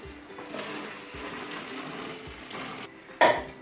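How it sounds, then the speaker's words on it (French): Lukewarm water pours steadily into a container for a homemade multi-surface cleaner, a continuous close rushing splash that ends with a brief louder clunk. "nous allons commencer par remplir notre récipient de la totalité d'eau, c'est-à-dire 45 centilitres d'eau tiède"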